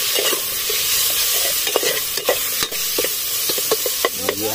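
Native chicken adobo in coconut milk is stirred in a pan at a farm, loud scraping and clacking strokes in an irregular rhythm over a constant close sizzle.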